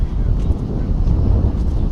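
Wind buffets the microphone on an outdoor tennis court, a steady low rumbling roar with gusty fluctuations, loud and close throughout.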